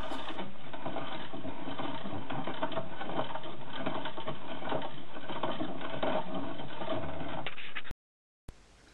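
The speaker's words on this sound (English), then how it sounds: "The melted out cement is now being crushed in a mincer" A cheap second-hand hand mincer crushes melted-out musical box cylinder cement, giving a steady grinding, clattering churn that runs continuously for several seconds at close range, then stops abruptly, followed by a brief quiet gap and a short resumption.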